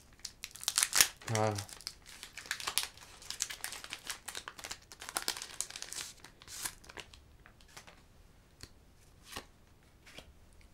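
Pokémon card booster pack from the Destinées Radieuses set torn open from the bottom, with crinkling, ripping foil wrapper close to the mic in bursts, while someone speaks briefly in French.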